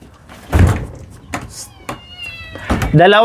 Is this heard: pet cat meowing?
yes